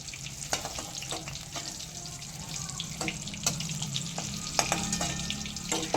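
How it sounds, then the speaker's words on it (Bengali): Pieces of gourd frying in oil make a soft, continuous sizzle, broken by intermittent clinks and scrapes of a utensil against the pan. "পটলগুলো দুটো পাশে খুব ভালো মতো ভাজা হয়ে গেছে তেল থেকে তুলে নিচ্ছি"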